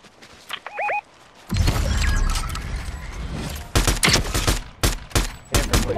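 Video game gunfire crackles in loud, rapid bursts and volleys after a few short electronic tones and clicks, with uneven pauses between the salvos.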